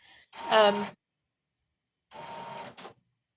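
A home printer works through a planner page, giving two short bursts of whirring, straining mechanical motor noise separated by a brief silent pause.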